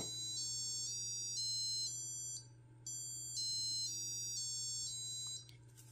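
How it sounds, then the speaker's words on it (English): Arduino passive buzzer stepping through a sequence of shrill electronic beeping tones in short bursts with brief pauses, faint and close over a steady low electrical hum. "I have uploaded a different program that will cycle through different tones using the Arduino tone command after I press this button"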